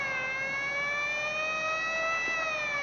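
A wailing vehicle siren on a steady rising tone, loud and continuous throughout, heard in a 1972 film scene with no voices over it.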